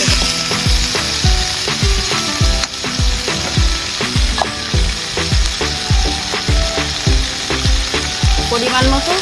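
Potatoes tipped into a hot pan with spices frying loudly, a dense steady sizzle broken by regular sharp clinks and scrapes of a spoon stirring throughout, in a home kitchen cooking soybean and egg.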